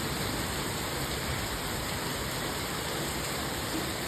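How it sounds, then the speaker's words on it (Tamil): Rain falling in Bangalore as a steady, even hiss of dense rainfall, unbroken and constant throughout, with no voices. "இப்போ இந்த வீடியோ வாய்ஸ் ஓவர் கொடுத்துட்டு இருக்கும் போதே மறுபடியும் இன்றைக்கும் மழை."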